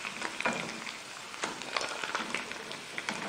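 Chicken fries in a pan over a full flame, a steady close sizzle with scattered pops and crackles throughout.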